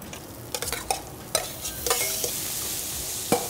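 Greens return to a seafood paella pan with a steady hot sizzle, while a spoon scrapes and clacks against the metal in quick irregular strokes, close and clear.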